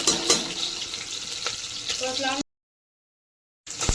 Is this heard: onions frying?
yes